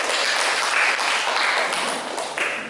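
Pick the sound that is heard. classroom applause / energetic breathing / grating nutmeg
classroom applause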